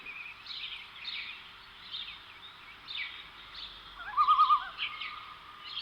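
Birdsong in a gentle nature soundscape laid under a relaxation session: soft repeated chirps and short trills recur every second or so, faint and airy, with a brief brighter call near the end.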